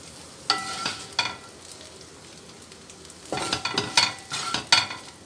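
Fried tofu (tokwa) with bell pepper is stir-fried in a pan under a low sizzle, with two sharp spatula scrapes early on, a quiet stretch, then a cluster of louder stirring clatters.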